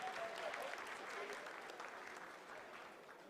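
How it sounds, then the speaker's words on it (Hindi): Applause in mission control during the Chandrayaan-3 lunar landing, sustained clapping from a crowd that rolls on evenly and tapers slightly, with a voice faintly audible underneath. "Lot of applause indicates that till now the performance has been nominal."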